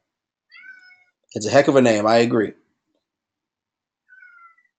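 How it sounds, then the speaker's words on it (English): A cat meows a couple of times, softly and close by, with a person speaking in between. "that's my cat being annoying"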